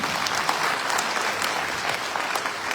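Sustained crowd applause fills a business meeting hall in Punjab as the audience claps for Ritesh sir, an even, dense patter of many hands throughout, close and unbroken by speech.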